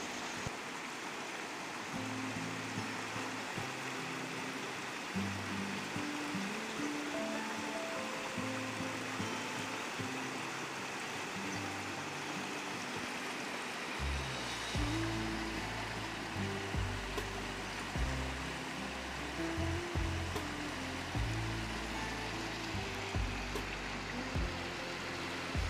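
Floodwater of the swollen Kosi River near Almora rushes past in a constant, dense roar, close and steady throughout, with a low rumbling hum running beneath it.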